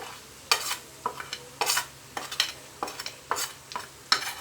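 Onions turned golden with spices frying in a clay pot for chicken curry: a constant close sizzle punctuated by about a dozen sharp scraping stirs at an uneven pace, with no voices.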